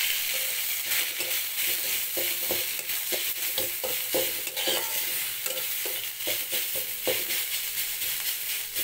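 Boiled drumstick (moringa) leaves are stirred and fried in a wok, with a continuous loud sizzle under a string of quick spatula scrapes and taps. The stirring stays close and busy throughout, with no voices.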